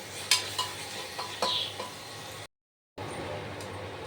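Onions and tomatoes for chicken biryani sizzle softly in a pan, broken by a few scrapes and clinks of a stirring utensil and one short gap of silence.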